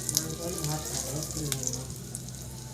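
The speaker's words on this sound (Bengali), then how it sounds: "তারপর দিয়ে দিলাম দুটো তেজপাতা" Two bay leaves frying in hot oil make a soft, steady sizzle running through the clip, with light crackles and a faint clink, while a voice seems to talk over it.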